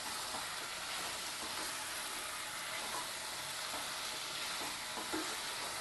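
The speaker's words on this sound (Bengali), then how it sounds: "এবার আবার এই মশলাটাকে ভালো করে মিশিয়ে নেব" Ground coriander and cumin stirred in a hot frying pan, a steady broadband sizzle with soft scraping strokes, fairly quiet and continuous with no voices.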